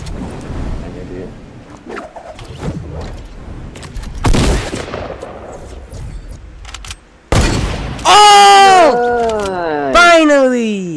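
Desert Eagle pistol shots in the Fortnite battle royale game, a few sharp close blasts mixed with other gunfire and loud bursts, with people talking throughout.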